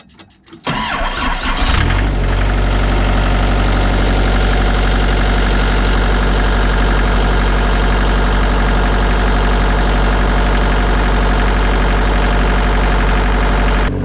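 An Isuzu diesel engine in a skid steer cranks briefly, catches and settles into a loud, steady, close-up rumbling idle that runs on unchanged.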